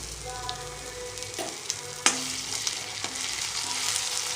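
Thecha, a crushed green chili paste, hits hot oil with mustard seeds in a pan and sets off a steady, hissing sizzle, with a few sharp stirring clanks against the pan.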